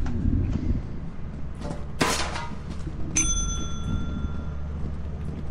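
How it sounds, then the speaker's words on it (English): A bell rings in the video game Lethal Company, bright metallic clangs with a lingering ringing tone over low background hum. "he's ringing the bell far too many times"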